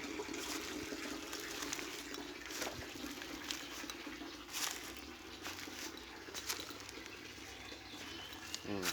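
Water rushes steadily out of a concrete pond used for raising apple snails, a continuous broadband splashing flow that stays fairly even for the whole stretch, with no talk over it.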